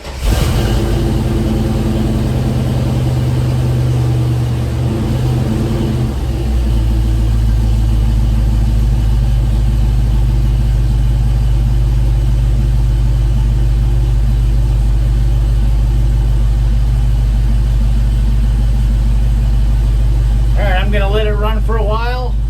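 A vehicle engine turns over and settles into a loud, steady idle close by, running on with a low rumble, and a voice briefly speaks near the end.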